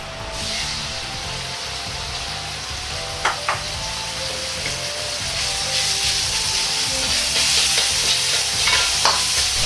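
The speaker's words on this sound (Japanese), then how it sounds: "油を小さじ1入れ、ひき肉を炒めます。" Minced meat stir-frying in a teaspoon of oil in a pan, giving a steady, close sizzle throughout with occasional scrapes and taps of a ladle spreading the meat thin.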